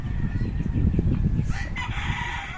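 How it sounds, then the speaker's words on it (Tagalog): Many chickens in a flooded yard during heavy rain, with a rooster's loud crow rising in the second half over a background of clucking and rain noise. "maingay dito sa maraming mga manok"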